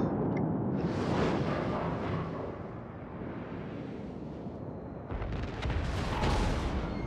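Naval guns firing from a warship in World of Warships, a heavy broadband boom that rolls on as a sustained rumble, then a second loud blast near five seconds, with no talking.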